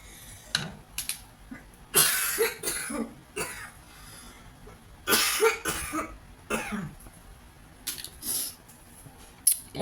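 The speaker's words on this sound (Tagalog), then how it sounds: "Lumayo ako muna kasi nag-ubo ako." A person coughs repeatedly while cooking ube turon malagkit over a stove, several sharp, close bursts in uneven clusters with brief quiet gaps between them.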